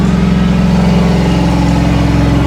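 A 1964 Buick Wildcat V8 with an electric choke settles to a low, steady idle after a tap of the gas, a loud, close, even rumble with a regular pulsing beat and no voices.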